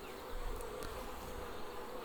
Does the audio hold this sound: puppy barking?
no